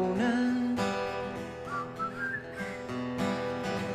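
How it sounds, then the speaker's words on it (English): Someone whistles a wandering tune, the notes sliding up and down, clear and close with no talking. "that was terrible whistling"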